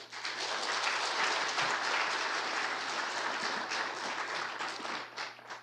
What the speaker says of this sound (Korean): 우리 목사님 나오실 때 우리 박수로 한번 환영하겠습니다